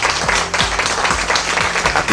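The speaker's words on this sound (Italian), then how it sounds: "Un applauso ha accompagnato nella sala convegni dell'ospedale Santa Maria della Misericordia di Udine lo svelamento dell'importo ottenuto" Applause fills the conference hall of the Santa Maria della Misericordia hospital in Udine: a dense, steady wash of many hands clapping at once, loud and continuous with no voices over it.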